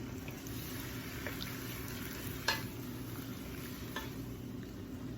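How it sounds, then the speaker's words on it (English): Adobo-seasoned meat for Puerto Rican pollo guisado stirred in a pot over a steady, soft sizzle, with a few faint scrapes and clinks of the spoon. "let me stir it around"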